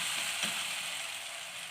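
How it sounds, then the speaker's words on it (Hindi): Spice-coated fish hits hot tomato masala with a steady, bright sizzle of frying, loud and continuous from start to finish with a faint clatter near the beginning. "अब हम इसमें मछली ऐड करते हैं।"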